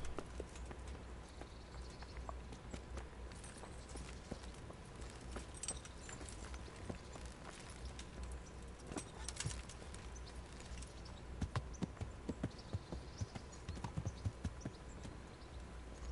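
Horse hooves clip-clop steadily in the medieval video game Kingdom Come: Deliverance, faint and continuous under a dense ambient bed with occasional birds, no talking.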